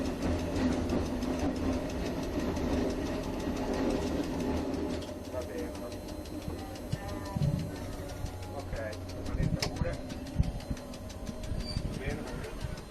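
The Casella narrow-gauge train runs in a steady clatter of wheels over rail joints during its 90th anniversary trip, with sharper knocks and rattles and birds calling faintly nearby.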